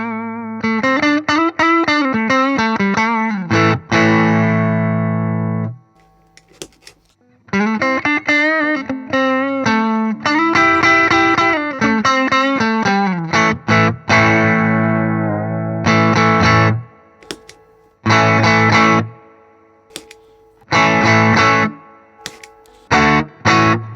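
Electric guitar played through a Tumnus overdrive pedal and then a Boss Klon Centaur CT-3, giving loud, driven chords and riffs in several bursts separated by short pauses.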